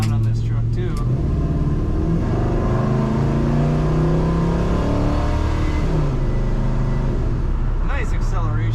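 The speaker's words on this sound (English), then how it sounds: "Very good exhaust sound on this truck too." A 1969 Chevrolet C10 pickup with a column-shift automatic runs steadily, its exhaust rumbling and rising as the engine revs and pulls away, loud and close throughout.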